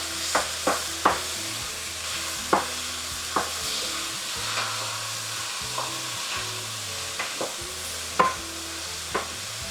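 Onion and cucumber sautéing in a pan, a steady broad sizzle with repeated sharp scrapes and clicks of a utensil stirring, close and alone without any voice.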